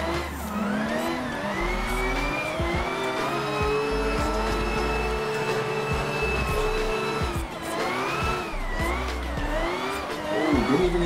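A racing-game car drifts through a corner, its engine holding a steady high rev that rises and dips with throttle, while tire squeal and scrubbing run underneath for the whole stretch.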